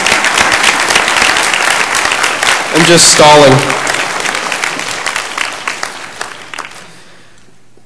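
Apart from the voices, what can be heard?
audience applause for Brother Ernie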